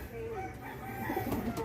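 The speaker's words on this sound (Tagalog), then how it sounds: "manok na babae at saka mga kalapati" A hen clucks and crows softly among pigeons during feeding outdoors, the bird calls moderately close over a low background rumble.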